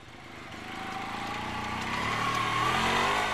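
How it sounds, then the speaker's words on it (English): An old MZ two-stroke motorcycle engine whines and climbs in pitch as it revs up, loud and close, with a steady rising drone and no talking. "the familiar whine of an old MZ's two-stroke engine will never be silent"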